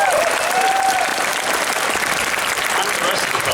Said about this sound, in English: A quick round of applause to all the fursuiters who come to Buck,